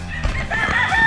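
Chickens on a farm range cluck and squawk together in a dense, busy flock, some fighting, loud and close, with overlapping calls and no talking.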